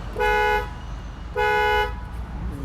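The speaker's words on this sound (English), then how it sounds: "To obtain refueling services, honk your car horn twice." A car horn honks twice at a gas station pump, two loud half-second toots about a second apart over quiet background.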